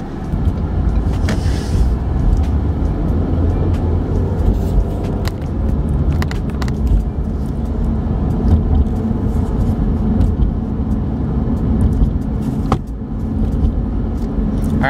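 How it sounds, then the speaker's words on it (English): Interior of a car driving home, a loud steady road rumble and engine drone throughout, with occasional small knocks and rattles and no talking. "So, I'm driving my car back home, and, you know, I got the camera secure"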